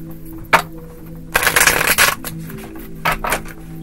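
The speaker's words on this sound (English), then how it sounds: "As I fling cards across the room." Tarot cards are shuffled and flung in several crisp papery bursts: a quick flick, then a longer rustling flurry, then two more short riffles, close and moderately loud with no talking.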